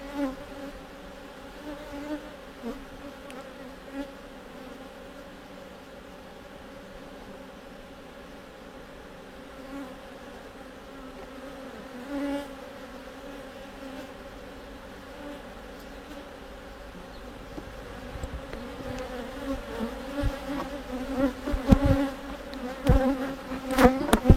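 Honey bees hum in a dense, steady drone around an open beehive, close and continuous, swelling louder near the end with a few nearby passes and no talking.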